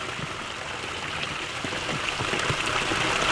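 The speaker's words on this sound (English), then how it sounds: "So here we are down at the cold water spring." Water flows steadily at a cold water spring in Minnesota, a close, continuous babbling rush with light splashing detail and no voices.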